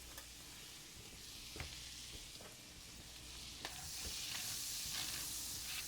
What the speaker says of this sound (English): Now we're going to put the rest in there for sauteing the mushrooms.